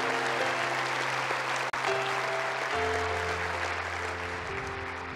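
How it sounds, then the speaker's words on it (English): Church congregation applauding during an Easter morning service, continuous clapping from a crowd with a sustained musical drone and tones underneath, briefly dipping once before carrying on. "Give these people who raised their hand a round of applause this morning"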